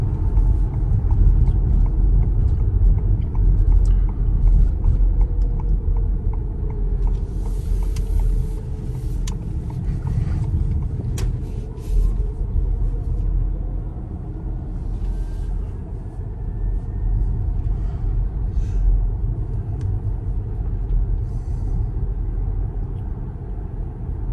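A Ford Mustang Mach-E electric car drives along, heard from inside as a steady low road rumble and tire noise, with faint motor whine rising briefly and no talking.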